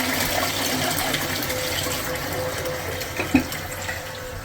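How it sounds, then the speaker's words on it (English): A dusty, long-stored toilet flushes with a steady rushing and gurgling of water, a close, continuous wash of sound with a brief knock near the end. "Very first flush seems to have worked"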